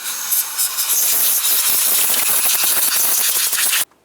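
Compressed air hisses loudly and continuously while blow-drying a cleaned Toyota RAV4 valve cover, with a rapid fluttering texture as the nozzle moves, then it cuts off abruptly near the end.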